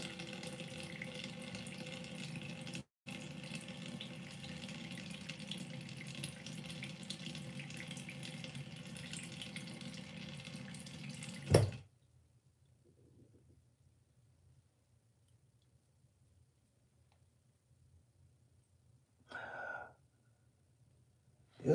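Water runs steadily from a tap to wet hair during an edge-up and haircut, a continuous close splashing flow that cuts off abruptly halfway, leaving quiet room tone with a brief faint sound near the end.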